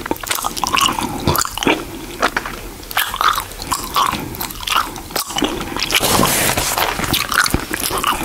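Gummy candy being bitten and chewed up close, with soft squishy mastication, small wet clicks and occasional crunchy bites spread irregularly across several seconds, no speech.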